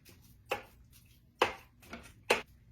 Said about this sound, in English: So just take that into consideration by breaking it up with your spatula.